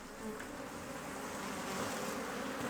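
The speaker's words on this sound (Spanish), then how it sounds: "Cuando los enormes enjambres de abejas asesinas atacan a sus víctimas" A swarm of aggressive Africanized killer bees drones in a dense, continuous buzz, loud and close, without a break.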